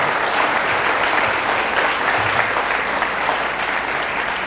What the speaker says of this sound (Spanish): Fuertes aplausos al Rey de Reyes y al Señor de Señores.